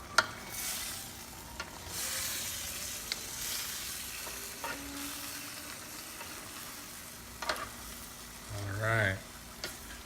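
Mushrooms and mixed vegetables sizzle and crackle while being stir-fried in a pan, a steady close frying hiss with a few scraping stir clicks, and a brief spoken word near the end.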